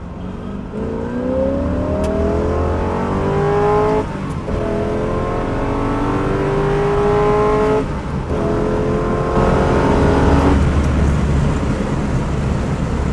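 A 1970 Corvette LT1 engine revs hard to redline, its pitch climbing steeply in repeated runs with brief drops between gear changes, loud and close throughout.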